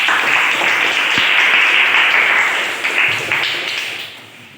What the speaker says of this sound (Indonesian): 100 tepuk tangan.